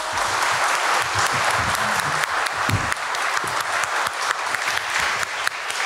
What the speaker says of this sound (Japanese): どうぞ皆様大きな拍手でお送りください。